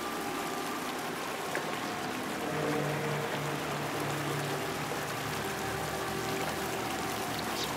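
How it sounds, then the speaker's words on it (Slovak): Waterfall and wild river in the game Outlast 2, a steady, even rush of flowing water that continues without a break at moderate level. "Prečo sa mi zdá, že to je vodopad?"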